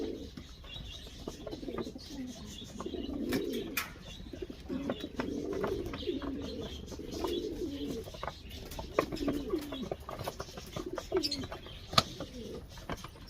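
Healthy breeding racing pigeons, including a pure Leo Heremans line, cooing in a loft, with repeated soft throaty coos in rolling bursts, fairly close, alongside light chirps and occasional wing flaps.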